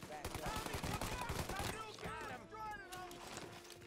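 Rifle and gun shots in Mafia Definitive Edition, rapid crackling volleys at moderate distance under and between people talking.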